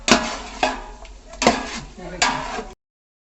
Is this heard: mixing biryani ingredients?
yes